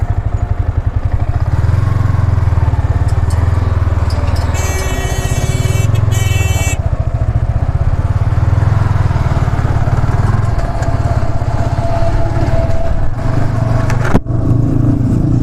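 A motorcycle rides at night across a bridge, its engine a loud, continuous low drone with wind rush, holding steady for the whole stretch, with a brief clatter near the end.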